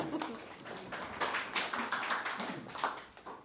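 A lecture audience applauds after a speaker's closing thanks, a dense patter of many hands clapping at once that swells and fades across a few seconds, fairly near and steady.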